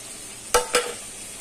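Vegetables fry in a pan on a home stove with a steady, faint sizzle, broken by two quick stirring scrapes close together near the middle.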